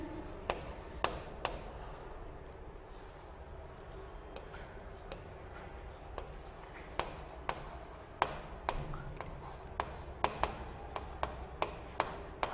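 Chalk or marker tapping and scratching on a board while a physics teacher derives equations, sparse close ticks and strokes spread over the whole stretch, fairly quiet, with no talking.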